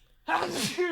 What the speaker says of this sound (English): I did sneeze into my backpack